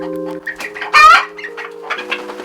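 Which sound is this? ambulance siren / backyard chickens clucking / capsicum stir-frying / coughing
backyard chickens clucking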